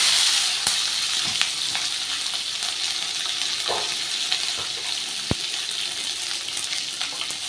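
Mixed vegetables (capsicum, carrot, beans, onion, tomato, green chilli, ginger) sauté with cumin tempering for kudhiraivali millet upma, a constant loud sizzle broken by occasional sharp ladle taps against the pan.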